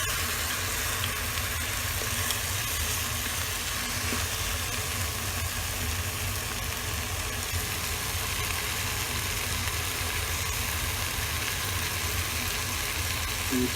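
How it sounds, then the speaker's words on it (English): Veal sears in a hot pan with oil, ghee or butter, a loud, unbroken hissing sizzle that holds steady throughout. "You keep flipping it till both sides get a good sear."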